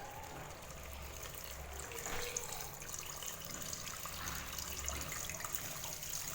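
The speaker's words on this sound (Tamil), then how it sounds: "இப்போ இதில் வந்து நம்ம அளவு தண்ணி சேர்த்திக்கலாம்" Water is poured into a pressure cooker for chicken biryani in a quiet, steady stream, a soft running trickle heard close by with no talking.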